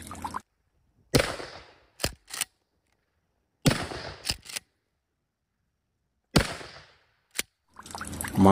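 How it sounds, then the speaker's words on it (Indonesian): Toy shotgun firing in a string of sharp, loud bursts: a pair of cracks, then a long pause, another cluster of shots, then more, each ending abruptly in silence, with no talking. "Ini tembak-tembakan shotgun."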